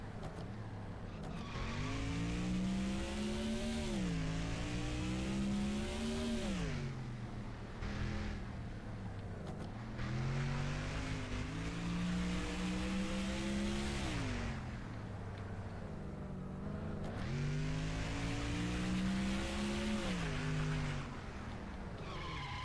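Race car engines in NASCAR Thunder 2004 roar loudly and continuously, pitch dipping and climbing through repeated corners, with brief tire-squeal hints; no talking.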